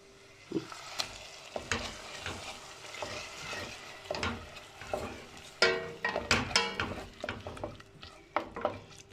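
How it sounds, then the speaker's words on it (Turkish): Ground meat frying with tomato paste in a pan, a steady sizzle under repeated scraping and stirring strokes of a utensil against the pan, close and busy throughout. "Biraz da salçayla kavrulsun."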